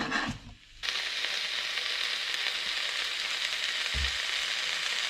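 Sliced peppers and mushrooms hit a hot pan at an outdoor cook-out and break into a loud, steady sizzle that continues unbroken, with a soft low bump partway through.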